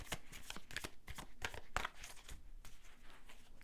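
Tarot cards being shuffled by hand up close, a run of quick, crisp riffling bursts with short pauses between them, fairly quiet and with no talking over them.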